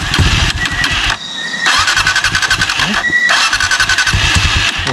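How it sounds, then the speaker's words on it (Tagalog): A boat motor on a river fails to start, giving repeated loud, close bursts of cranking and sputtering with short gaps between attempts. "Bakit ayaw umandar ang motor natin bro?"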